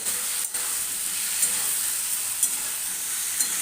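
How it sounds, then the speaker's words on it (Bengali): Spice paste with potato and pointed gourd sautés in oil, a close, steady sizzle broken by a few brief stirring scrapes at roughly one-second intervals. "এইভাবে আমি কষিয়ে নেব, ভালো মতন করে কষিয়ে নেব।"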